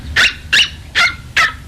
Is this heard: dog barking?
yes